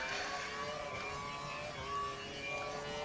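A Formula racing car in an Xbox racing game at the Malaysia circuit whines at high revs, its pitch sliding as the gears change partway through, with a steady engine drone and no speech.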